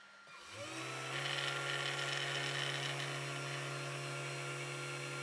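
A CNC mill spins up and drills a hole in a PCB at too high a speed, a close, steady high-pitched whine with strong tonal harmonics that rises in at the start and holds.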